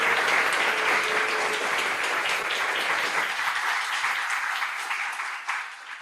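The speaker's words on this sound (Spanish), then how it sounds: "agradecerle al profesor Murillo, creo que se merece un fuerte aplauso, igual que ustedes, por poner atención y participar" An audience at a Pi Day talk claps steadily for several seconds after the lecture. The sound is dense and even and thins slightly toward the end.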